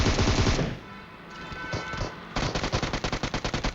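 Rapid bursts of PUBG gunfire, loud and close, with a pause and then a fast run of evenly spaced pistol shots.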